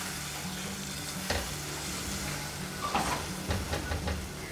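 Masala-coated goat liver (kaleji) is stirred in hot oil, giving a steady sizzle with a few scraping stirs near the end, close and fairly loud, with no voices.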